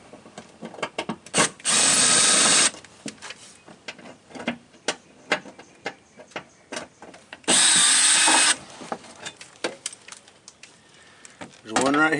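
A power tool zips out the lower bolts on a 2014–2018 Silverado while replacing the washer pump, two loud buzzing bursts of about a second each, separated by clinks and handling noise.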